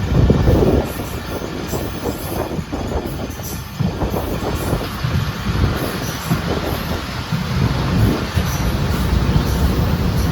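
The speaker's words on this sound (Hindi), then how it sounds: "कासिम रेलवे स्टेशन पहुंच गई हमारी ट्रेन और लेजेंड्स खड़े हुए।" Shah Latif Express passenger train at Bin Qasim railway station, loud rolling wheels with clattering and squealing rail noise throughout, close and continuous.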